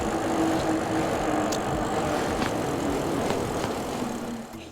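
Vanpowers Manidae electric bike rolling down a road at about 24 mph, giving a steady broadband rush of wind and tire noise with a faint motor whine and a few small clicks, fading slightly at the end.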